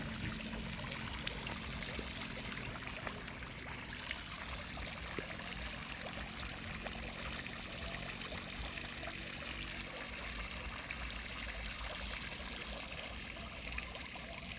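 Water runs steadily from a shrimp pond into a rice paddy, a continuous trickling, pouring stream that holds even and fairly close throughout with no voices.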